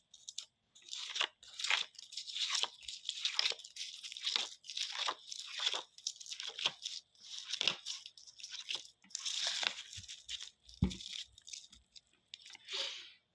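Tarot cards shuffled and drawn during a reading, with dense papery crinkling, flicking and soft snaps in close, irregular bursts separated by brief pauses.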